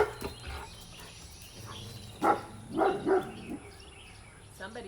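Dogs barking out near rice fields during a quiet morning stretch session, a few short bursts at middle distance over soft background ambience.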